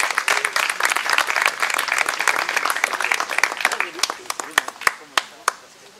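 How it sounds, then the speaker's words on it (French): An audience applauds children receiving certificates at an eco-mobility day event, dense clapping that is sustained, then thins into scattered separate claps toward the end. "vous pouvez les applaudir très fort"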